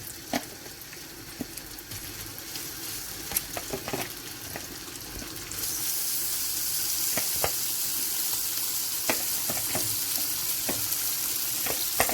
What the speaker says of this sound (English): Now I'm using my olive oil to fry. I've heated the fry pan, a bit of olive oil. First I'll do my seafood.